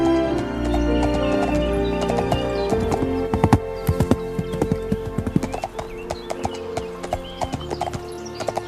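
Horse hooves clip-clop in a steady walking rhythm, close and clear, while a horse whinnies and neighs over the top, with a faint musical bed underneath.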